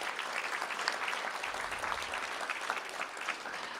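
Steady applause from an audience at a school district board of trustees meeting, honoring a student from an elementary school, a dense even patter of many hands clapping throughout with no pauses.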